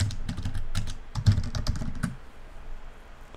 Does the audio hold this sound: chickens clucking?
no